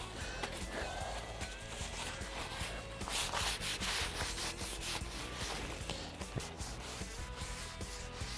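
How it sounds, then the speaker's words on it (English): A wet sheet is rubbed firmly over a metal weld, producing soft, continuous scrubbing and wiping strokes that are close and fairly quiet, with no talking. "I'm just gonna wipe this down really good."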